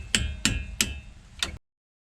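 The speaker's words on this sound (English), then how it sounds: "So I got my little punch, and this is basically the calipers on here, just with the bolts on it, hand tied, just kind of hold it in place so that I can tap these pins out." Four sharp metallic taps of a punch driving brake caliper pins out on a 2008-2012 Mustang Shelby GT500, close and evenly spaced, then silence.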